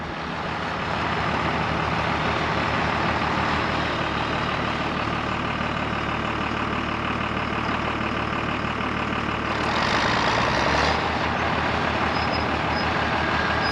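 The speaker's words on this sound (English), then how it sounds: "Hey, it's my cowboy friend Rance on his HD11. I've run that tractor before." Diesel engine of an HD11 tractor running steadily outdoors, a continuous heavy low rumble with a firm throb that swells slightly louder near the end.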